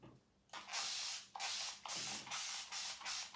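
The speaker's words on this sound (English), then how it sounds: "spray a little water and scrape some of this off" Several sharp bursts of a spray bottle misting water onto a chalked reusable surface, each a short hiss with brief pauses between, close by and alone.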